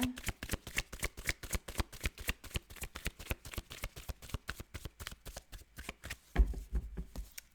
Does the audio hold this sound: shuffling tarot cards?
yes